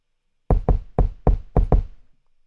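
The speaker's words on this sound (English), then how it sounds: "I added Cashmere's Essential Kick" Cashmere's Essential Kick sample with saturation, six punchy, booming hits in an uneven rhythm, close and dry, each with a short low tail, then silence.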